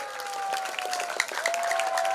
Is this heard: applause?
yes